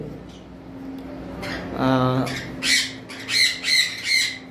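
Pet conure and cockatiel parrots in a breeding setup squawk loudly and harshly in a run of repeated calls, close by, with a buzzy rasping cry in the middle and several quick squawks toward the end.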